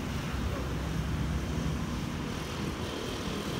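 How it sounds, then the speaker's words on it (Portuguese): Calm sea surf rolls in at a beach on a clear, cool morning, a steady broadband wash with some wind rumble against the microphone, continuous and fairly even throughout. "Mar ali tranquilo, praia maravilhosa."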